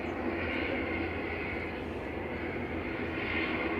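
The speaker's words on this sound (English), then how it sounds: "Coming in from Belfast, this is Aer Lingus Regional Flight 3618 GCMMN" An Aer Lingus Regional ATR 72-600 turboprop arriving from Belfast at Manchester Airport gives a steady, fairly faint engine drone at a distance, holding even throughout.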